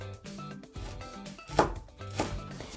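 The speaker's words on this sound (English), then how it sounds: "we'll just go ahead and chop it nice and fine" A knife chops celery finely on a board, with a few distinct close thuds at an uneven pace.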